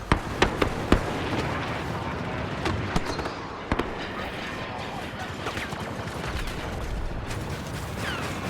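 Grenade blasts and blaster fire crackle through a Star Wars Battlefront II battle on Geonosis, with sharp bursts early and scattered pops over steady combat noise while voices speak throughout.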